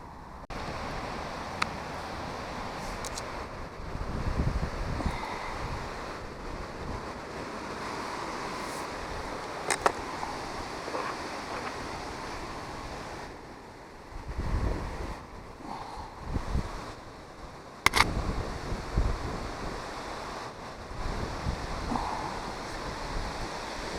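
Strong wind buffets the microphone in rough gusts at a fishing lake, with waves washing in the background; no talking.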